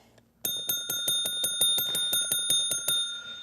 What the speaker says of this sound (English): I'll ring the yellow doorbell